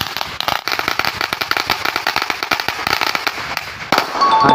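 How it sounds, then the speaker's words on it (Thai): A long string of firecrackers goes off for good luck at a mountaintop flag-planting ceremony, popping in rapid, loud, irregular bursts that crackle continuously for several seconds before tapering off. "จุดประทัดเอาฤกษ์เอาชัยกันเลย"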